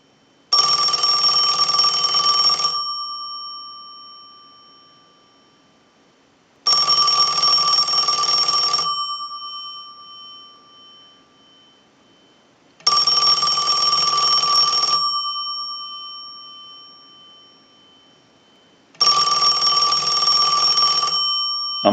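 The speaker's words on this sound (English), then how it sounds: "send a ring cycle like you were getting a call" An old Western Electric Princess telephone bell rings in four long bursts, each about two seconds of loud metallic clatter separated by quiet pauses.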